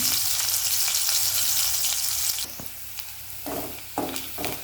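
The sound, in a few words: garlic frying in oil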